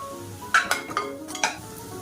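Ginger garlic paste frying in a pan, heard as a few sharp metallic clinks and scrapes of a utensil against the pan over a faint low sizzle, near and fairly loud.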